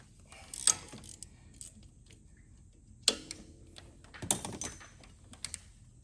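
A ratchet wrench loosens 10 mm bolts on the front of the oil cooler of a 6.0 Powerstroke diesel, with three short, close, crisp bursts of clicking separated by quiet pauses and no talking.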